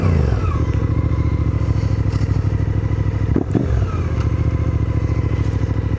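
A Suzuki V-Strom 800DE motorcycle rides at a steady loud engine drone with a dense rhythmic pulse. A brief thump and rattle come near the middle, and no one speaks.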